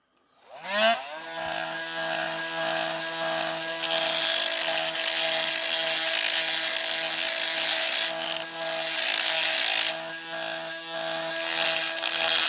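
A small rotary tool spins up after a second and grinds the rivet post on a 1972 Matchbox K-15 Londoner die-cast bus. It holds a steady, close, high-pitched whine with grinding rasp throughout.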